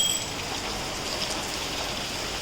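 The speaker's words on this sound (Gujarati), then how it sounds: "બહુ ફાસ્ટ વરસાદ આવ્યો છે અત્યારે તો" Steady, dense rain pours down without pause, a constant hiss of drops on surfaces close by, with no voices.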